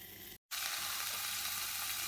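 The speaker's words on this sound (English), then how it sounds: "Oh my gosh, do you hear all that sizzling?" Ham sizzling and frying inside a car cooker, a loud steady hiss that fills the whole clip apart from a brief break of silence early on.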